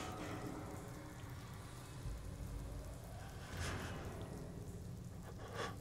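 Steady rain falls outdoors in the video game Fallout 4, a continuous broadband hiss of drops on surfaces that swells slightly in places, with no talking over it.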